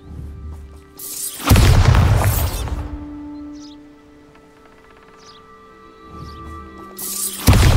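In the Hogwarts Legacy video game, the Bombarda blasting spell goes off with a loud, booming explosion and a rumbling, crackling tail. A second blast erupts at the very end, and a few faint chimes sound in the quieter stretch between them.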